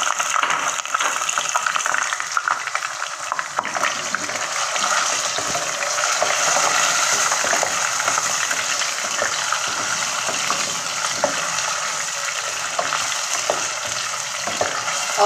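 Chicken pieces fry in a pan with ginger-garlic paste while a Chinese-style mixed vegetable dish is being made, giving a loud, continuous, close crackling sizzle that holds steady throughout with no talking.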